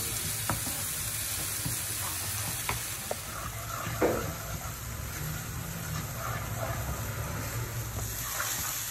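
Fish sambal paste sautés in a pan with a continuous, even sizzle at moderate volume, punctuated by occasional soft scrapes and taps of stirring.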